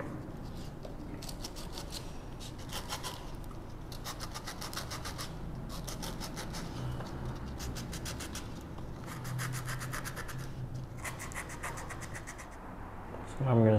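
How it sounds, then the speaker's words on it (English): Coarse 80 grit sandpaper rubs over a wooden tissue box lid in repeated close back-and-forth rasping strokes, about a dozen bursts in a steady rhythm. "I'm gonna start with the 80 grit sandpaper for this"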